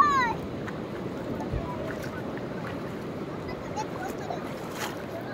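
Water rushes and washes continuously at a beach, a broad steady roar with wind buffeting the microphone and a voice briefly heard at the start.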